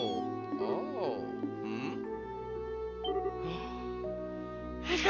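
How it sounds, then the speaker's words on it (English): Cat meowing in the video game Trails in the Sky SC: several short tonal meows spread across the clip, with game music playing steadily underneath and no talk. "This must be our cat."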